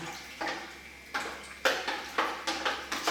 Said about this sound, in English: So, advised to again give it a bit of a stir, distribute it evenly.